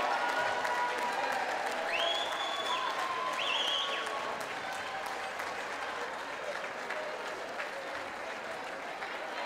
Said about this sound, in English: Let's hear the fans give these seniors a round of applause.